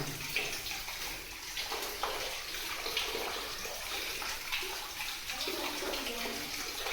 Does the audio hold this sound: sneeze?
no